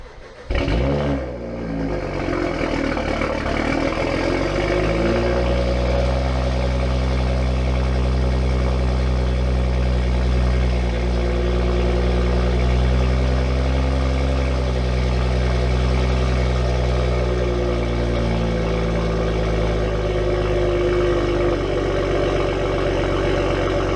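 A 335 car engine cold-starts with a sharp crank and flare, then settles into a loud, steady high idle. The idle drifts slightly in pitch as it runs on alone, with no talking.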